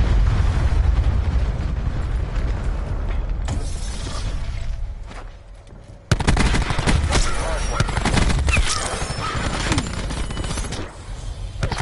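Heavy battlefield din from a video game match: rumbling hellstorm missile explosions mixed with dense gunfire, continuous and loud throughout, dipping briefly before a fresh blast surges back in.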